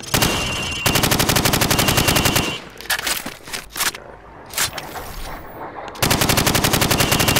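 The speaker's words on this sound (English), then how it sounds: "Now, shoot at the targets while firing from the hip." Rapid automatic gunfire on a video game shooting range, fired from the hip in loud sustained bursts that stop briefly for quieter shuffling and clatter before resuming.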